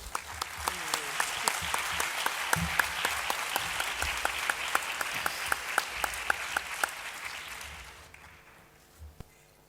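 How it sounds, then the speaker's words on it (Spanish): Sustained applause from a sizable audience at a university conference, dense clapping with a few sharp louder claps, fading out near the end. "después de un aplauso, dejo con ustedes al profesor Llano."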